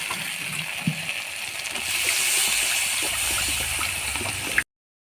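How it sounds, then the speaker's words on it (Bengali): Water poured into sizzling mustard-poppy spice masala for a katla fish kalia curry, a steady hissing, splashing pour close by that runs for several seconds, then cuts off abruptly. "এবার জল ঢেলে দেবো।"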